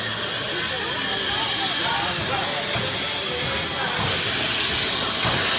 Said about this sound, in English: the trains used to run on coal, so you'd have all these cinders and stuff coming out, but they did switch them to oil burning this year